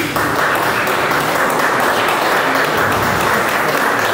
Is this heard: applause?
yes